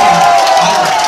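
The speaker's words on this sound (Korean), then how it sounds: "이때 함성을 지르면서 박수를 치는 거예요" Outdoor political rally crowd at a Korean party leader's candidacy declaration for a Seoul district mayoral by-election, loud and sustained cheering and clapping blended into a continuous roar, with a voice carrying over it through amplification.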